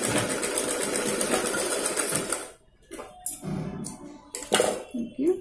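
A sewing machine stitches layers of fabric for a double zipper pouch, a loud steady whir for about two and a half seconds, then stops and gives way to soft handling clicks and brief rustles.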